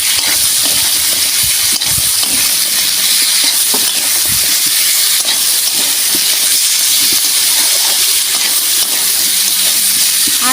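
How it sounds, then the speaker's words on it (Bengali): Onions sizzling with crab in a hot pan: a loud, continuous hiss of frying, close and steady throughout, with occasional faint clinks and stirring sounds underneath. "পেঁয়াজগুলো দিয়ে আমি ভালো করে কাঁকড়ার সঙ্গে ভেজে নেব।"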